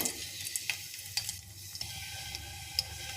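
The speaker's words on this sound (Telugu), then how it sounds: "ఆయిల్ వేసానండి ఆయిల్ ఎక్కింది వీటిలో వెల్లుల్లి రేబ్బలు వేస్తున్నాను" Garlic cloves sizzling in hot oil during home cooking, a steady fry hiss with a few sharp crackles and pops, fairly close and quiet, with no talk.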